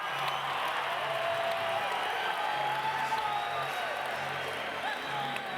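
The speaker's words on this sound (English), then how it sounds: "Crowd's going crazy here." At an MMA fight, an arena crowd roars and cheers continuously, a broad, steady wash of noise with scattered whoops and claps, heard from a distance and held at an even level.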